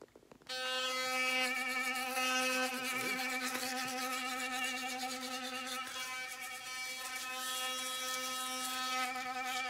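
A toothbrush brushing teeth: a steady, close electric buzz that starts abruptly and holds continuously, with slight wavering as it moves around the mouth.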